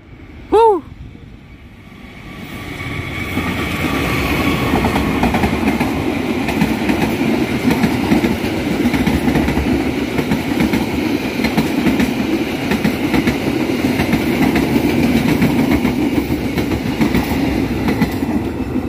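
An Indonesian passenger train on double track rolls past steadily with continuous rumbling and rhythmic wheel clatter, loud and close, after a brief whistle-like tone at the start.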